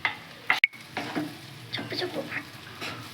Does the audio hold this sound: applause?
no